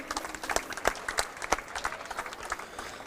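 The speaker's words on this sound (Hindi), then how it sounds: "तालियां बजाइए, रनर्स टीम है।" Applause for the runner-up team at a cricket league prize distribution, a brief patter of scattered claps from a crowd, sharp individual hand strikes over a diffuse hum, moderately distant.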